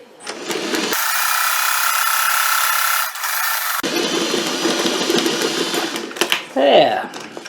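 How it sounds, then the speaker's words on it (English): A sewing machine stitches a 1-inch seam on quilt-as-you-go sashing. It whirs steadily up close, pauses briefly as it backs up a few stitches, then runs forward again and stops with a few clicks. "Take a few stitches. Back up a little."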